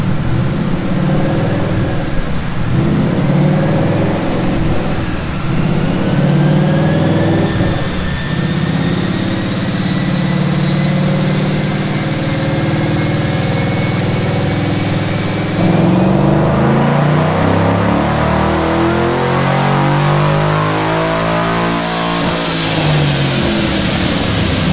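A stock 2014 Ford Mustang engine revs steadily and loudly on a dyno, climbing in pitch through a long pull before easing off, then rising sharply again near the end.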